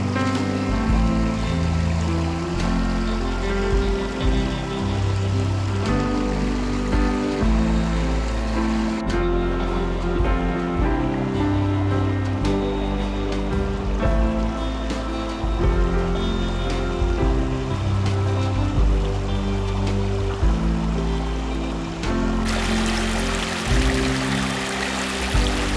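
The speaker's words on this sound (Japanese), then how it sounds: "雨が降ってきました。 雨だー。雨降ってきたー。" Rain begins falling at a campsite during a small campfire day trip, giving a continuous pattering and splashing on surfaces, steady and fairly loud throughout with no voices.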